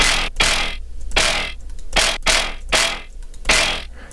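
Punchy synth bass hits repeating in a loose rhythm, gritty and heavily compressed with a bright, sizzling top and sustained body between notes.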